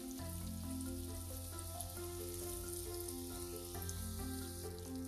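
Butter melting and sizzling in a pan while cauliflower tikka masala is cooked, giving a steady loud crackling hiss that runs the whole time, with a faint hum beneath.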